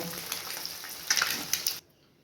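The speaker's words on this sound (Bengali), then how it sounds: "ডিমগুলো ফ্রাই করা হয়ে গেছে, এবার আমি এগুলোকে তুলে নেব।" Fried eggs for an egg potato curry are lifted out of sizzling oil: a close, steady frying hiss with a few utensil scrapes and clicks, cutting off abruptly to near silence.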